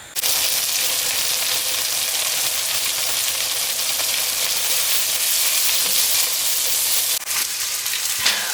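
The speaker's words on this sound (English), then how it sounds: "you have to fry your onions" Onions frying in butter or oil in a frying pan, a steady, loud, continuous sizzle and hiss filling the whole stretch with a brief dip near the end, and no voices.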